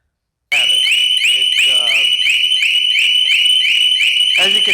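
A Harley Davidson security siren module, part 68958-07C, blares a loud, piercing, warbling electronic alarm that starts abruptly and keeps sounding continuously at close range.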